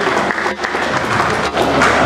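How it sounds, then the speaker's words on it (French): An audience applauds a manager's team as they walk forward at an agency awards evening in DR Congo, the clapping dense and steady throughout with a brief dip midway. "Est-ce que l'équipe, on peut applaudir l'équipe pendant qu'ils avancent?"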